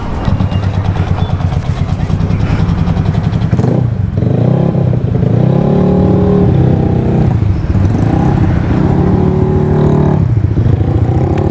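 A modified 218 cc motorcycle engine rumbles loudly and close while riding, with repeated revs rising and falling as the throttle opens and closes.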